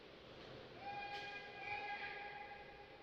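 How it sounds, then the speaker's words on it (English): Referee's whistle at a campus ice hockey game, a sustained thin tone entering under crowd noise and lasting a couple of seconds before fading into the arena murmur. "And a whistle coming"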